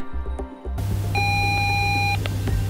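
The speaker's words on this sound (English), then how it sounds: "Now hold down the light button for around 4 seconds until the exit tone plays." A Siedle DoorCom in-house telephone handset plays its exit tone, a steady electronic beep that holds for about a second over a low hum, close and clear.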